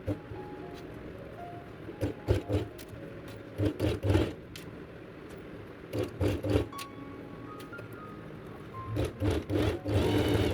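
A sewing machine stitching fabric for a scissors holder whirs in short repeated bursts of varying length, separated by quiet gaps and low hum, close and moderately loud.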